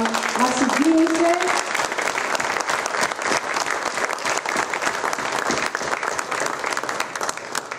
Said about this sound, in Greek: Νομίζω αξίζει ένα ακόμη χειροκρότημα.